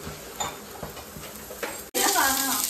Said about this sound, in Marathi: तेलमध्ये भाजायचंय कांदा।